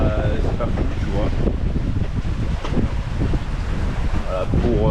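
Steady 14-knot wind at sea buffets a sailboat on an overnight crossing from Tunisia to Sardinia, a continuous loud rush with water wash underneath.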